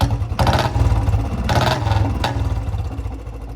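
Royal Enfield Bullet BS6 motorcycle engine running with a fault, a steady low, loud throbbing idle with rattly mechanical clatter and a few brief harsher surges over the top, heard close and alone.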